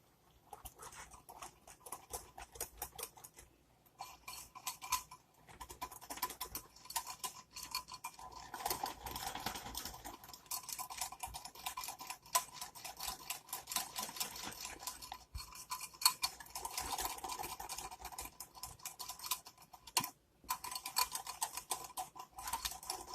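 Chocolate pudding mixture is stirred hard with a utensil, making a quiet, fast run of scraping, ticking strokes against the pot that goes on for the whole stretch, with short pauses and no speech.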